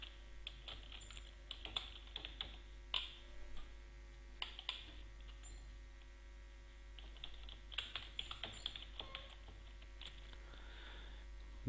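Keys tapped on a computer keyboard while entering text into a spreadsheet cell, quiet irregular clicks in short bursts over a low mains hum, with no talking.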